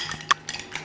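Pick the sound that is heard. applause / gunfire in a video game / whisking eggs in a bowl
whisking eggs in a bowl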